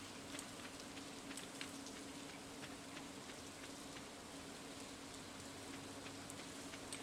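Steady rain falls in Minecraft as an even, hissing wash of droplets, faint and continuous with a few sharper patters and no voices.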